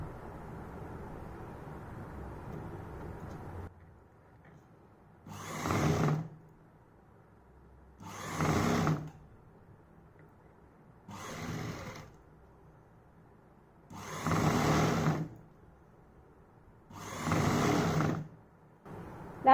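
Sewing machine stitching a six-panel palazzo, running in five short bursts of rapid whirring separated by quiet pauses, fairly close and alone.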